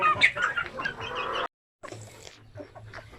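Native chickens cluck loudly and close in a pen, a burst of clucking and calls that breaks off briefly and then resumes more softly with low grunting calls.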